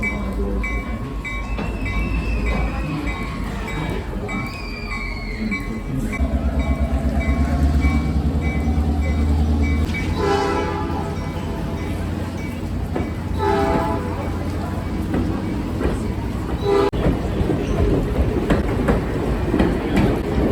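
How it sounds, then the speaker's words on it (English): A train departs in the rain at Jim Thorpe, Pennsylvania, with a steady low rumble, a drawn-out horn blast and rhythmic clickety-clack of wheels building as it rolls past nearby. "in a couple minutes that train is gonna depart and we're gonna see what it looks like"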